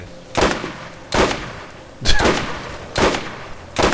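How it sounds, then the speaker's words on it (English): Gunfire in the Borderlands video game while shooting at Lance defenders, heard as four loud broadband bursts spaced roughly a second apart, each with a sharp attack and a short decaying tail. "shooting at Lance defenders"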